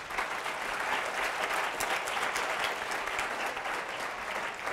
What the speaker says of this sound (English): But another round of applause for Myrtle,